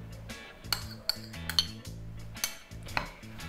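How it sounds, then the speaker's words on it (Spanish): A utensil stirs melted butter into crushed biscuit crumbs for a dulce de leche cheesecake base, with sharp metallic clinks against a bowl at an uneven rhythm over soft scraping, close and without talk. "Y vamos a mezclar bien hasta que esté toda la galleta bien húmeda."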